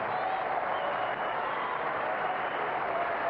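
A large crowd at the Kooyong tennis exhibition applauds steadily after Sampras breaks back, a dense, even wash of clapping throughout the stretch.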